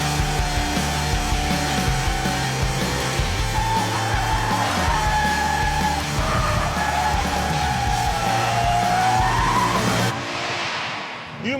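A Toyota GT86 on deliberately low-grip tyres slides tail-out at about 30 mph, its tyres squealing and skidding in a long continuous wail over engine drone before it eases off near the end.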